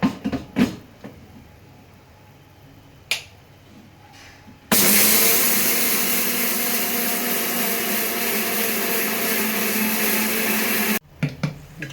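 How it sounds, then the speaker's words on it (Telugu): Small kitchen mixer grinder powdering roasted jowar puffs with cardamom pods: a loud, steady whirring roar of about six seconds that starts and stops abruptly, with brief handling knocks before and after. "మూత పెట్టి మిక్సీ రుబ్బుకుందాం"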